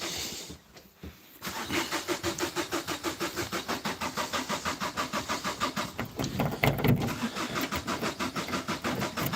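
A car engine catches after a push start and runs with a fast, rhythmic pulsing chug near the microphone, steady after a brief stumble at the start.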